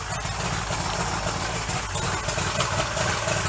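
A boat engine idles after a cold start following hibernation, a loud, close, steady rumble with slight shaking vibration and no voices.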